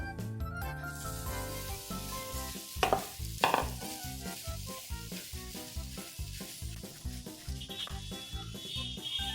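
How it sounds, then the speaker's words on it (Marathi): Mashed potato samosa filling with cashews and salt being stirred in a hot pan, steady rhythmic scraping and sizzling strokes with a couple of sharper clanks, moderately quiet and without talk. "मीठ, व्यवस्थित मिक्स करून घ्यायचंय"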